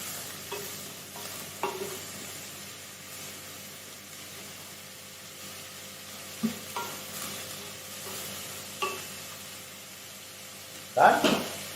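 Vegetables, including capsicum, being stirred and fried in a pan for a colourful vegetable soup, with a steady low sizzle under scattered stirring scrapes and a louder clatter near the end.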